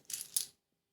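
A 2 euro coin, an ordinary German issue, is handled and dropped, giving two quick bright metallic clinks and rattles close by, then silence.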